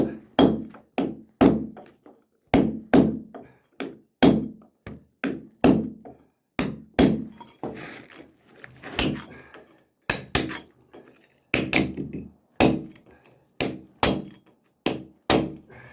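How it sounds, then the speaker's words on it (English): Hammer striking a chisel to cut a face, a long series of sharp, loud metallic blows in quick pairs and runs with brief pauses, close and alone. "You've got to try and get your chisel up against that one there and cut as straight as you can down"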